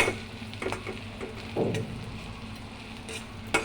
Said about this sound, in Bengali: দেওয়ার পরে ভালো করে নাড়াচাড়া করবো।